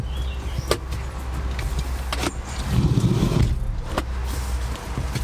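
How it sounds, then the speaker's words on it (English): The second-row seat of a 2019 Nissan Pathfinder collapses after its pull tab is lifted, giving a few sharp mechanical clicks followed by a louder rumbling shift of the seat mechanism, heard close up inside the cabin. "So with this engaged, this whole seat right here has basically collapsed in itself."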